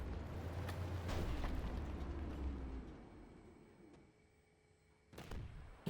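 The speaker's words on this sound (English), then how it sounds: "That's an artillery shell that's going to hurt a lot." An artillery shell explodes in the tank game Armored Warfare, a deep rumbling blast that swells and slowly fades, with sharp cracks of gunfire near the start and another sharp crack near the end.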